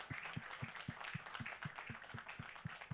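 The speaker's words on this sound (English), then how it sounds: "A round of applause for him." Steady applause from a crowd, dense clapping that holds at an even level without voices.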